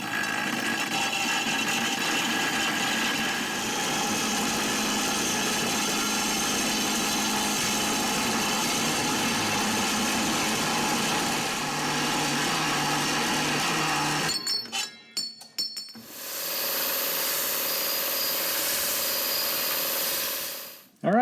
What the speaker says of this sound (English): I'm going to go ahead and cut it at that 30-degree angle where it's going to rest against the boxing plate of the suspension brackets